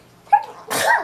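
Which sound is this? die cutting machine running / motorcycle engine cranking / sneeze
sneeze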